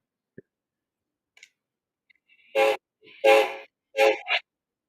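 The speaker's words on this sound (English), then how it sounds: "Why does that sound like a horn, not a whistle?" A few short toy-like horn toots from a model train, three to four bursts in quick succession after a couple of faint clicks, fairly close and with no talking.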